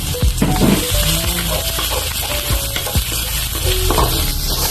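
Plenty of garlic sizzles and crackles in a pan, cooked for garlic buttered shrimp. Close stirring scrapes and light clinks sound through the steady frying hiss.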